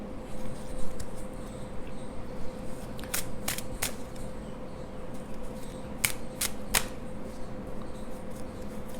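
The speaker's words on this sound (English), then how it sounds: "Why am I shuffling?" A deck of tarot cards shuffled in several quick bursts, sharp riffling clicks clustered around the middle and the end of the stretch, set over a steady low hum.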